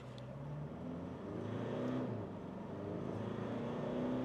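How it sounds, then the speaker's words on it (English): A 2023 Mitsubishi Triton ute launched hard from a brake-boost standstill, its engine droning and rising steadily under load, close and continuous with no talking. "Okay, let's brake boost launch it."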